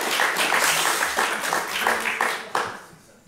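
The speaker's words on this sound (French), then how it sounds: "applaudissements pour Marion" Audience applause breaks out for Marion on a French podcast, a dense, steady patter of clapping that swells at intervals across the clip with no one speaking over it.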